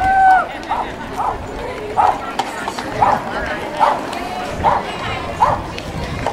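A dog barks at the 2012 Twain Harte Dog Parade: about five or six short, evenly spaced barks over outdoor crowd noise, with a voice talking across them.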